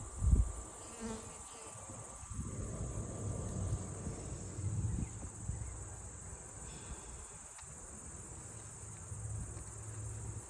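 Honey bees buzz around an open hive during an inspection, a steady close insect drone with a faint high whine and occasional brief rustles and louder passes, with no talking.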